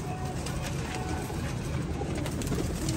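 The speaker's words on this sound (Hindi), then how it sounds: "बहुत ही लाइट वेट और परेल किस्म के कबूतर हैं ये।" Light, fine-feathered Teddy pigeons cooing in a loft, a low continuous murmur of soft coos under broadband background noise.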